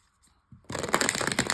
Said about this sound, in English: I'm going to give it another good shuffle.